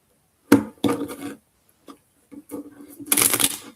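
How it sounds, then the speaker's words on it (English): Short bursts of riffling and snapping paper cards, several quick shuffles separated by brief pauses, close and clear. "And I'll shuffle again."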